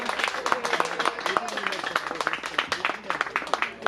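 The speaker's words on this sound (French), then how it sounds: "Encore des applaudissements pour Cadet Morival" Applause at a ceremony at the Direction nationale du livre, with many hands clapping densely and steadily throughout, mixed with crowd voices and a few clearer individual claps.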